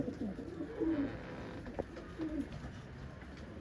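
Young pigeons in a coop, soft low cooing calls repeated faintly in a quiet enclosure, no talk.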